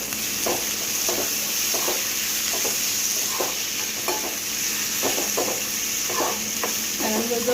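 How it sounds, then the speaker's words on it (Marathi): Chopped red tomato frying in hot oil with ginger-garlic paste for a mung bean bhaji, giving a steady broadband sizzle with a rhythmic series of spoon scrapes and stirs against the pan, close and fairly loud, with no talking. "यामध्ये टाकूया बारीक चिरलेला टोमॅटो"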